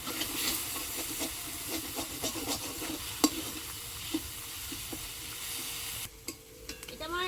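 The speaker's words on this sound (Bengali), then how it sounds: "বন্ধুরা এটা কষার সময় আমি একটু হালকা করে এর উপরে জল দিয়ে দেবো" Potato curry masala sizzles and hisses in a pan as a little water is splashed over it, with spatula stirring throughout and a sharper burst of steam near the end.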